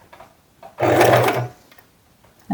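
A sewing machine back stitches the seam of an adjustable fabric bag strap, a single fast mechanical stitching burst lasting about three quarters of a second, close by and fairly loud, with faint handling clicks around it.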